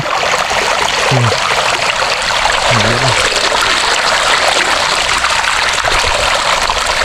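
Water gushes out to fill a tarp with a loud, continuous rushing stream. Two brief faint chirpy tones sound in the background.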